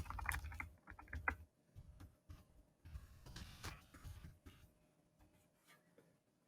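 Computer keyboard keys tapped in quick irregular bursts while a comment is typed, close and fairly quiet with short pauses between runs of keystrokes.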